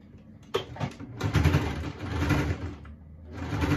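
A sewing machine stitches a seam on trousers made of an unusual fabric, with short bursts of mechanical whirring separated by brief pauses and a faint handling clatter.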